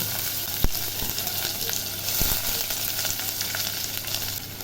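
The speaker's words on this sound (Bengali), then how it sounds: "কেটে রাখা পেঁয়াজগুলো দিয়ে দিচ্ছি" Chopped onions hit hot oil already holding cumin seeds and a bay leaf, giving a steady close sizzle with a couple of sharp knocks as they go in and are stirred.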